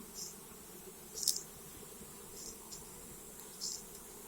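A faint, steady buzz of Carpathian honeybees hums along at a hive, with a few brief, sharper buzzing bursts from bees flying close by.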